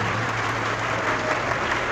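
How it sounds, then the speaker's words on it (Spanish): Steady, dense applause from a debate audience fills the whole stretch, a continuous wash of many hands clapping with no voices over it. "Me honran sus aplausos"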